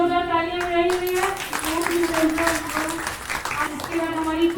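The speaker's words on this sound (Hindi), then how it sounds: "इनके लिए जोरदार तालियां बजाई हुई है" Clapping from a group at a Navratri devotional gathering, rhythmic hand claps running under sustained singing or chanting voices throughout.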